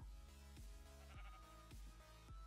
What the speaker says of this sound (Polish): Owca!